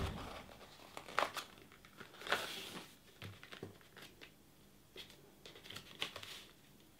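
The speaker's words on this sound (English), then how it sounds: "I'm going to take this point and fold it over to this point." Sheet of card folded over and pressed down by hand, giving quiet close crinkling and crunching rustles in a few short bursts.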